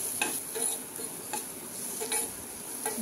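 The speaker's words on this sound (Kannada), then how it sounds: "ಶುಂಠಿ ಬೆಳ್ಳುಳ್ಳಿ ಪೇಸ್ಟ್ನ ಹಾಕ್ಕೊಳ್ರಿ. ಇದನ್ನು ಸಹ ಸ್ವಲ್ಪ ಹಸಿ ವಾಸನೆ ಹೋಗೋ ಥರ ಫ್ರೈ ಮಾಡಿರಿ." Ginger garlic paste frying in a pan over a medium flame, a steady close sizzle broken by repeated scraping strokes of a spoon as it is stirred.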